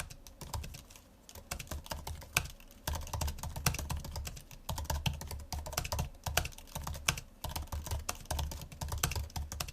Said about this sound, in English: Here's a quick type test.